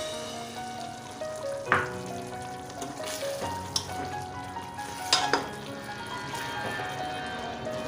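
Mutton sizzles steadily in a pan while being fried for bhuna gosht, with occasional sharp clinks and scrapes of stirring against the pan.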